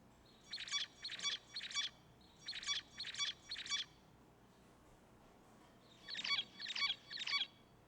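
Zebra finch song in repeated bursts: three groups of rapid, buzzy chirped phrases, each group a quick triple motif, close and clear over a quiet background.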